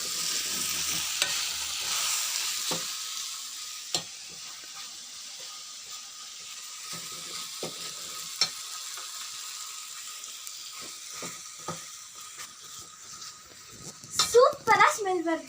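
Tempering for sambar fries and sizzles in a pan with a steady hiss, broken by scattered metallic scrapes and taps as the spoon stirs, ending in a burst of louder clattering.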